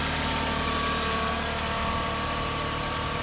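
A 2015 Kubota B26 tractor with loaded backhoe idles steadily, a constant, loud diesel drone with an even mechanical hum and no speech.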